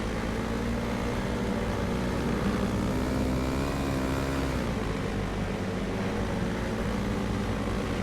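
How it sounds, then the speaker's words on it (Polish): A speedway motorcycle engine in the FIM Speedway Grand Prix 15 video game, racing a Grand Prix round in Stockholm, Sweden, struggles to pick up revs. It holds a continuous, loud droning whine with slight pitch shifts and no pauses. "Coś źle zbiera ten motor."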